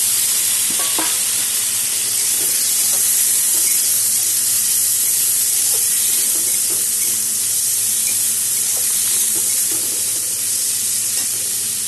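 Chopped tomato tipped into a pan of frying onions, giving a loud, steady sizzle and hiss that carries on without a break, with faint stirring scrapes scattered through it.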